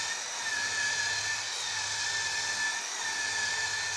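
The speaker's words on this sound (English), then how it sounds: "using the electrical polisher and the folded sanding fleece ring" An electric polisher fitted with a folded sanding fleece ring works on stainless steel, giving a steady, loud, continuous whirring hum with a faint high whine and no breaks.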